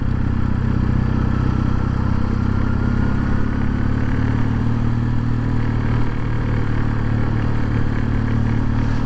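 A Kawasaki W800 motorcycle engine idling steadily around 2000 rpm, a loud, close, even low rumble with a smooth throb that holds constant throughout, no voices over it.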